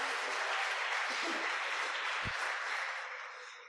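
A church congregation claps in a broad, even wash of applause that holds steady and then begins to taper off, with a single low thump partway through.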